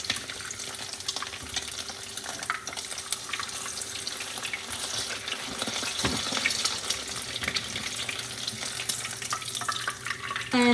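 Eggs frying in oil in a pan with salt, giving a steady, moderately loud broadband sizzle throughout, with light scraping and clatter of cookware on top.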